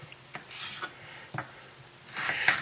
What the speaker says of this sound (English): And then we're going to cut them again in half, and half,